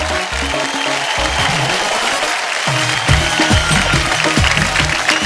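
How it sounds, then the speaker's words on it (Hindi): A studio audience at a Hindi comedy talk show bursts into hearty applause that carries on throughout, with a rhythmic low musical backing underneath. "एक बार जोरदार तालियां हो जाए"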